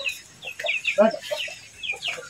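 Chickens cluck in short, irregular bursts close by, with a few higher squawks mixed in and a bit of faint background chatter.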